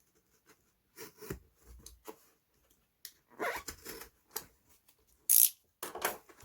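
A cardboard package is cut open at close range with short, separate bursts of ripping, slicing and scraping, one sharp rasping tear standing out near the end, set against near silence.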